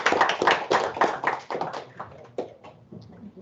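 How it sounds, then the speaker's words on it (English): A small conference audience claps after a biomedical engineering presentation, a burst of applause that thins out and fades over a few seconds. "So let's give a round of applause."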